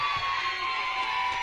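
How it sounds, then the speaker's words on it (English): Crowd in the stands at a girls' high school softball game between the Falcons and Jaguars, a steady wash of cheering and shouting that holds at an even level through the moment. "Got the crowd lighting it up a little bit."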